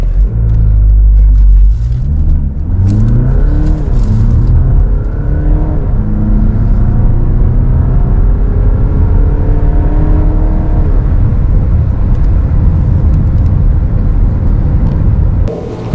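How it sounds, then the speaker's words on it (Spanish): A Seat Tarraco 2.0 TDI seven-seater diesel accelerates at full throttle from a brake-held start, its engine droning up through several rising gear pulls, loud and close inside the cabin. "ahora pisamos freno y acelerador a fondo"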